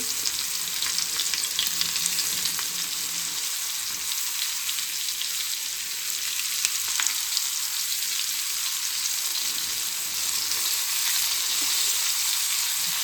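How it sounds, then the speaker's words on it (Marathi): Batter-coated bombil (Bombay duck) fish fry on a tawa, giving a steady, close, hissing sizzle of hot oil that carries on evenly throughout with no talk. "ते चिपकणार नाही तव्याला एकदम व्यवस्थित फ्राय होतील"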